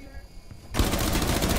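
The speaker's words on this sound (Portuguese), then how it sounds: "Meu Deus, parece um louco dando tiro." Rapid automatic gunfire from the video game Rainbow Six Siege bursts in after a quieter moment, a dense, loud, sustained stream of shots that runs to the end.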